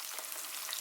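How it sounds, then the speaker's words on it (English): A steady, faint hiss of garlic frying in a pan, a continuous soft crackle with no voices. "I wanted it sizzling a bit more than that"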